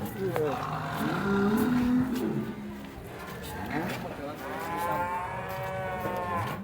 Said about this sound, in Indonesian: Sapi sehat ya.